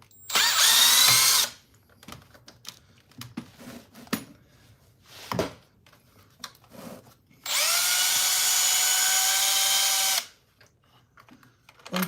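A power drill driving screws during a repair indoors: two sustained whining bursts with rising pitch, separated by small clicks and handling knocks, heard close.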